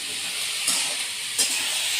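Green chili, onion and garlic fry in hot oil in a home kitchen, a loud, steady sizzling hiss with two brief surges as the pan is stirred, and no talking.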